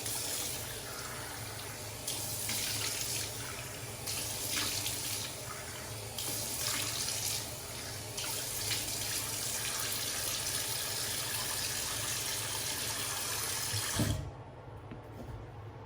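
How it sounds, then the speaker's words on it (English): Tap water runs steadily into a bathroom sink while shaving soap is rinsed off a face, a continuous close hiss with slight surges, cutting to a softer trickle in the last seconds. "Let me rinse off the soap of my face"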